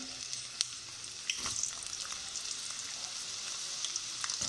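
Okra (bhindi) fries in hot oil with a soft, steady crackling sizzle, punctuated by occasional sharp pops and light stirring clicks, fairly quiet and without any voices.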